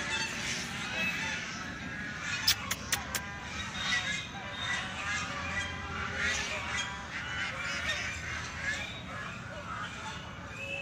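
Ducks honk and quack noisily and nonstop nearby, with a person talking over the flock.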